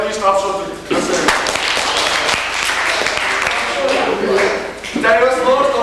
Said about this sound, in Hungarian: Na jó, egy kis tapsot.